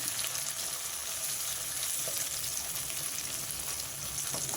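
Mint leaves frying with onions in a pan, a steady close sizzle and crackle of oil running evenly throughout with no talk.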